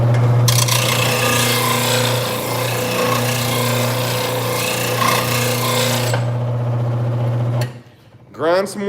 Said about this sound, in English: turn my grinder on